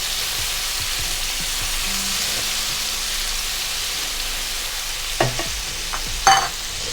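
Garlic ginger paste and chopped tomato stirred in a hot pan, a steady hissing sizzle throughout with a few knocks and scrapes of the spoon near the end.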